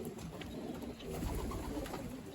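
Pigeons in moult coo softly and repeatedly close by, low burbling calls over a light background hiss.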